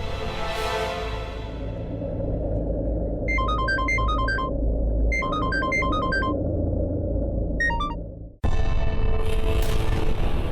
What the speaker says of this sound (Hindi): मैं धर्म को फोन कर लेती हूँ।